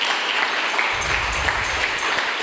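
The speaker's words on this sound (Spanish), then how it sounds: "Entonces dale fuertes palmas al Señor Jesús" A church congregation applauding: a dense, steady wash of many hands clapping together, swelling in strength partway through and holding loud and close.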